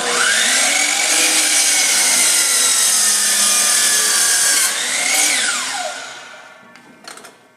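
A miter saw slices through a maple hardwood board, one continuous loud whining cut of about five seconds, then the blade spins down and winds off, ending with a few light clicks.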